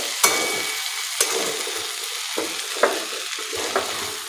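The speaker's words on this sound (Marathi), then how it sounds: "यालाही छान मिक्स करून घेऊया" Okra stir-fries with peanut powder in a pan, giving a continuous soft sizzle broken by about five sharp spatula scrapes at irregular intervals.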